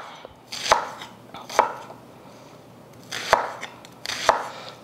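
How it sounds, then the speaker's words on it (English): A knife roughly chops ingredients for kwenkwen, a Kumasi street meal, striking a board four times in uneven pairs with short, sharp, close knocks over a quiet room. "So these I'm just roughly chopping, and I'm going to blend."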